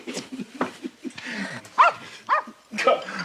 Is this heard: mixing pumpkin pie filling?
no